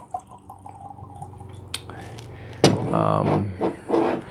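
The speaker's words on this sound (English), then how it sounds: "So I'm going to pour a little bit of this 10-year-old to celebrate Ardbeg Day." Ardbeg 10-year-old single malt Scotch whisky is poured into a glass, a short, close, liquid splash and trickle following some faint handling noise.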